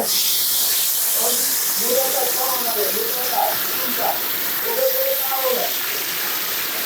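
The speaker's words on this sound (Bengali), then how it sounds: "ইলিশ মাছ ভাজা হচ্ছে" Steady hiss of hilsa fish frying in mustard oil at Mawa Ghat, Bangladesh, fills the whole stretch, with a voice talking intermittently over it.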